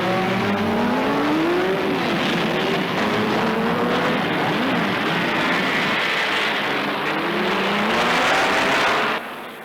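BRM Grand Prix race cars at the British Grand Prix in the early 1950s roar past in a continuous, loud, rising and falling engine howl, with layered pitch sweeps as several cars pass by.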